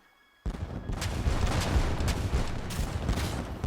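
Ship cannons open fire in an Age of Empires III cutscene, the Knights of St. John battle: a sudden heavy barrage bursts out of near silence, then continues as a dense, rumbling, overlapping volley of booms.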